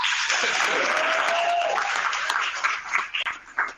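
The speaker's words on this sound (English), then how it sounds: "Bigger clap." A room full of attendees at an HBCU career marketplace claps loudly and continuously, the applause thinning into a few scattered claps and voices near the end.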